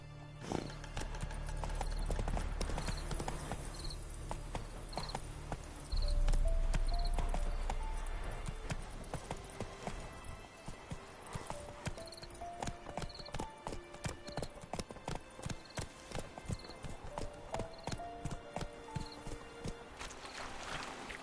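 Geralt's horse Roach gallops in The Witcher 3 on PS5, with rapid rhythmic clip-clop hoofbeats throughout, close and steady, a neigh near the start, and faint game ambience underneath.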